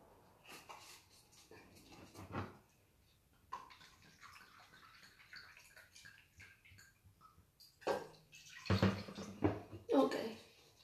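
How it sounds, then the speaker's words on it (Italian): A glass of water is poured into a cooking pot for steaming broccoli. It comes as a splashing gush of a few seconds near the end, with a person talking throughout. "Quindi andiamo a mettere un bicchiere d'acqua."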